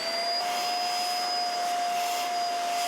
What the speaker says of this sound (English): To turn it on, push the power button and the vacuum will turn on.